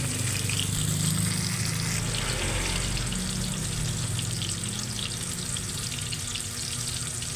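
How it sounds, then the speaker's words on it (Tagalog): Eggplant omelette sizzles and crackles steadily in oil in a pan, a continuous bubbling hiss up close with no voices. "prituhin na natin"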